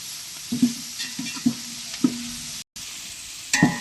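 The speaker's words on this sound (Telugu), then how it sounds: "కొత్తిమీర కూడా వేసి బాగా కలుపుకోవాలి" Corn snack mixture stirred and fried in a pan with curry leaves and coriander, giving a soft continuous sizzle broken by several distinct spatula scrapes and taps, close up, no talking.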